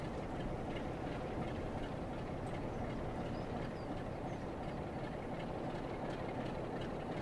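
Steady, dense rumble of a train running in the Train Sim World 5 video game on the Blackpool branch line, continuous and even throughout with no talk over it.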